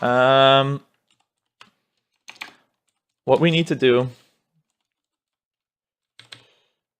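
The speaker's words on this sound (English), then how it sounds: "So, actually I'm typing just randomly." Sparse, faint clicks of someone typing on a computer keyboard, a few isolated keystrokes in the pauses between bursts of a man's nearby speech.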